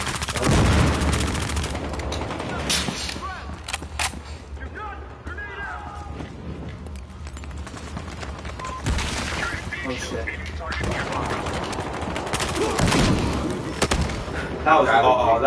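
Bursts of gunfire from a zombie gun in the video game Battlefield Hardline, with repeated loud shots in clusters over steady game noise while players talk throughout.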